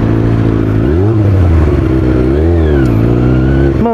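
A Kawasaki ZX-6R 636 sport motorcycle engine revs loudly and close up, rising and falling in pitch through repeated throttle blips over a few seconds, with no voices.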